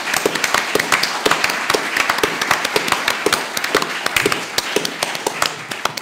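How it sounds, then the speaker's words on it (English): Audience applause for farmers in the crowd at a live comedy show, a steady run of dense hand claps with sharp individual slaps standing out across the whole stretch, fairly close and loud. "could we put our hands together for our farmers who are in the crowd?"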